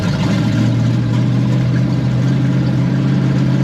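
The restored car's engine drones steadily in first gear at low speed, a loud, close, even rumble with no talking.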